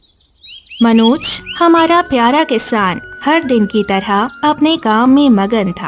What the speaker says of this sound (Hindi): चिड़िया चहचहा रही थी